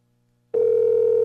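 A telephone line tone starts abruptly after a brief hush and holds steady and loud, a continuous call tone with no voices.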